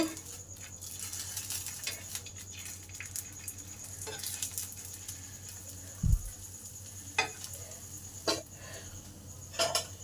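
Rolled fish patisapta frying in a little oil makes a faint, steady sizzle with scattered light crackles and a few soft taps.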